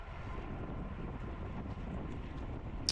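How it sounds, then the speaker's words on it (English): Steady wind buffeting across the whole stretch at a bicycle race, a broad low rumble with gusty texture and a brief sharp click near the end. "It's pretty windy also right now."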